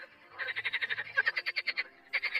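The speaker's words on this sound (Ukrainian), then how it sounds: "У першій половині травня розпочинають свої концерти ставкові жаби." Pond frogs croaking in mid-spring, a quick run of rhythmic, raspy croaks pulsing in close succession with a short pause before a final burst.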